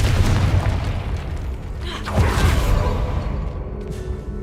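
A Confringo blasting spell in Hogwarts Legacy bursts in a loud booming explosion with a rumbling tail and a second swell of blast noise, then fades into quieter game ambience.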